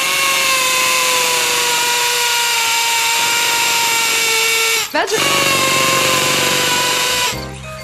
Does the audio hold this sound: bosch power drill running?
yes